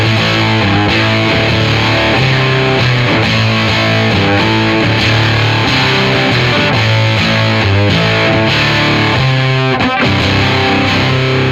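Electric guitar played through an Old Blood Noise Endeavors Haunt Fuzz pedal with the gate turned down and other knobs at noon, a thick, heavily distorted fuzz tone with rhythmic chords and riffs, loud and continuous.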